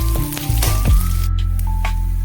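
Ginger and garlic frying in a pan produce a loud close sizzle with a brief clatter of stirring, over a low steady hum of the stove.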